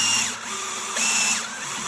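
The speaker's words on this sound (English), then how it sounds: "Nice and straight drill again." A hand drill bores through a metal base plate for a motion simulator platform, a steady, loud, close whine with slight pitch wavering and no talk.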